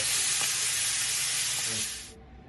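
Thin pork chops sear in a hot pan with a loud, steady sizzle and hiss that runs unbroken, then cuts off abruptly near the end, with no talking.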